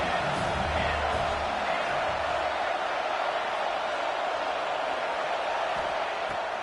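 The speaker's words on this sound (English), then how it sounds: "This crowd knows when to bring it." College football stadium crowd roaring in a steady, dense wash of cheering and noise that holds loud and constant throughout, without a break.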